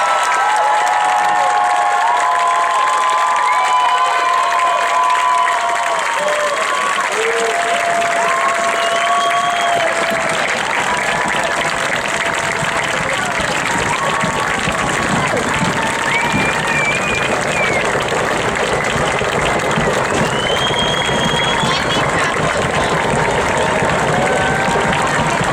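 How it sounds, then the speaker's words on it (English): A large crowd at a high school graduation applauds the graduating class with sustained loud clapping, scattered cheers and shouts, and some whistles rising over the din. "Let's give one more round of applause for the class of 2022."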